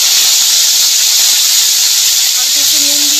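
Tomato paste hitting hot oil tempered with fried black cumin gives a loud, steady hiss that fills the whole clip without a break.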